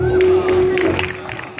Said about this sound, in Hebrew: מגיע למחיאות כפיים